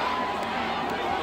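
Massive crowd of about 3,000 at an outdoor concert on MG Marg, Sikkim, hums and cheers as a dense, steady wall of sound throughout, close and fairly loud.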